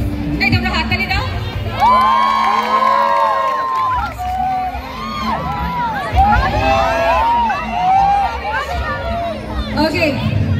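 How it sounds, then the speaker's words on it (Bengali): A college freshers' party crowd cheers, whoops and shouts together in a loud, continuous, excited roar that stays close throughout, with high voices rising above the din. "মেরি ক্রিসমাস, তাই তোমরা হাততালি দাও"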